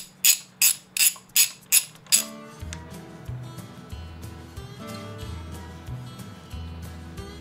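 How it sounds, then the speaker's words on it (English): A ratchet with a 14mm Allen socket cranks open the left-side engine cap on a Yamaha FZ-09 motorcycle. Six sharp, loud metallic clicks come first, then quieter ratcheting ticks over a low, uneven mechanical grinding. "Take your 14mm Allen socket and you're going to stick it here on the left-hand engine side. Crank that open."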